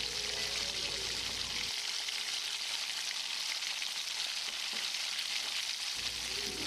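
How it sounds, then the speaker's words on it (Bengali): Mutton pieces cook slowly in hot oil in a pan, giving a constant, dense sizzle with fine crackling throughout, close and unbroken, while a low steady hum fades out partway and returns near the end. "একটু ধীরে ধীরে মাংসটা কষিয়ে নেব।"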